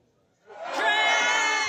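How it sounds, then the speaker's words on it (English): A comedy roast show audience bursts into a loud shared yell after a moment of quiet, the mass of voices rising fast and holding as a dense roar. "As together as one, can we all just yell?"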